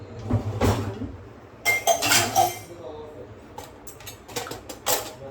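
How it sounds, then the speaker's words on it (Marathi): Dishes and cutlery clink and rattle in bursts as they are scrubbed and washed by hand at a home sink, sharp metallic chinks close by with quieter gaps between. "भांडी घासून घेते, जेणेकरून पटापट आवडेल."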